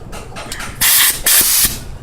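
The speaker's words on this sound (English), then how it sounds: "I have my blower here. I'm gonna go ahead and attach it to the compressor." Air blower on a compressor, used for cleaning a small lawn equipment carburetor, gives two loud sustained hissing blasts, each under a second, separated by a short pause with quieter clicks and handling noise around them.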